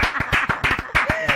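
A small group claps in short uneven bursts, close and fairly loud, with voices briefly mixed in.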